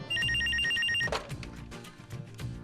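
A telephone rings with a rapid repeating electronic trill, close and clear, then cuts off into clattering handling noises.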